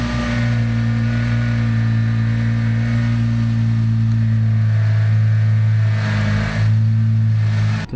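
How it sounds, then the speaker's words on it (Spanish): Jeep power steering pump whining loudly with the steering turned: a strong, steady engine-like drone with sustained tonal whine that wavers slightly near the end, close and continuous without speech. "Entonces lo que estás escuchando es lo de la bomba."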